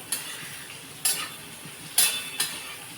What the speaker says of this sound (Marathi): विदाऊट झाकण ठेवूनच आपल्याला ही भेंडी दोन ते तीन मिनटं व्यवस्थित अशी परतून घ्यायची